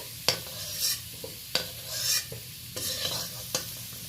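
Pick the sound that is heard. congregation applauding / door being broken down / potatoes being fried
potatoes being fried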